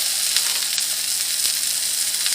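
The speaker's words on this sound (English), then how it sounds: "Sizzling nice." A hamburger patty sizzles steadily in a hot pan, a close, continuous bright hiss of frying fat with small crackles and pops throughout.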